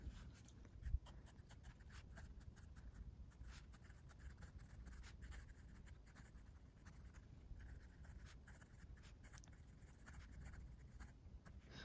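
A Moonman C1 fountain pen nib scratches across Tomoe River paper in a Galen Leather notebook, producing continuous soft, close scratching strokes with frequent brief ticks for about twelve seconds, quiet and steady with no talking.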